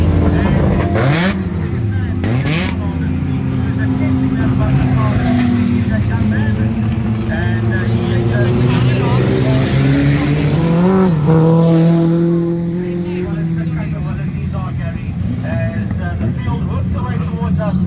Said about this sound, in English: we've got a couple of slower cars coming through there